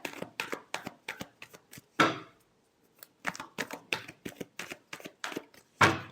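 Tarot cards are shuffled by hand in quick, crisp bursts of riffling and slapping, with a short pause midway before another run of shuffles ends in a sharp final snap.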